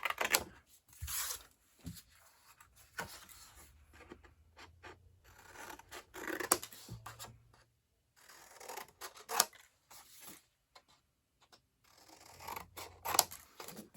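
Long scissors snip paper repeatedly at close range in short, uneven bursts of crisp cutting with quiet pauses between.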